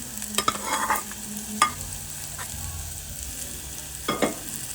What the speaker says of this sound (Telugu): ఇప్పుడు ఫ్రై చేసుకున్న ఎగ్ని వేసుకోవాలండి ఇందులో.